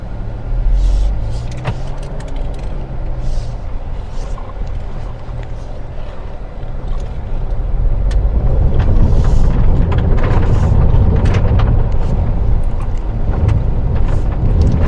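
A Hyundai Venue N-Line climbing a steep, rough road in sand mode, its engine droning loudly from inside the cabin and growing heavier partway through as it works up the grade, with occasional knocks and rattles over the surface.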